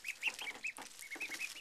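Baby ducks in their pen peep and chirp in quick high-pitched bursts, a faint, busy chorus of small calls close by with no talking.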